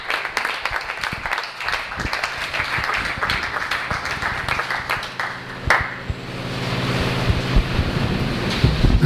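An audience at a formal gathering claps in a scattered, uneven round, with individual sharp claps near the microphone and a rushing wind-like wash building toward the end.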